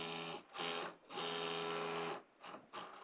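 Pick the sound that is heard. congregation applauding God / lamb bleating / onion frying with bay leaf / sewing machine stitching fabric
sewing machine stitching fabric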